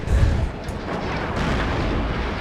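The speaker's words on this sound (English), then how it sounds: "But there's the artillery coming in." Artillery fire in the Warno wartime strategy game: a heavy low boom opens, then a dense sustained rumble of distant shelling rolls on with no voices over it.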